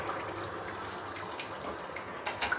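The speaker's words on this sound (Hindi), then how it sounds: "और अब हम इसमें डालते हैं 1/2 कप के करीब पानी" Water poured from a cup into a pan of egg and potato curry (ande aloo ka salan), a steady soft splashing rush that runs evenly for a few seconds at a low, close level with no talking.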